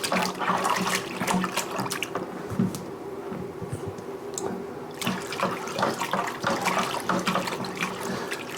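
Hot water runs into a pot for a rum wash, a steady close splashing and gurgling that carries on throughout with small clinks and knocks over the top.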